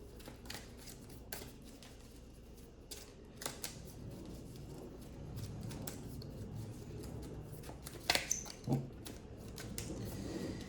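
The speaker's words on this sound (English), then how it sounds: "let's start off first by shuffling." Yu-Gi-Oh trading cards are shuffled in quick riffling bursts, crisp rustles and snaps close by with short pauses between, no voices.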